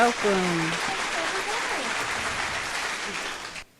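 Studio audience applause welcoming a guest onto a talk show, a steady even wash of clapping lasting a few seconds, with a voice briefly heard at the start before the clapping takes over and then cuts off.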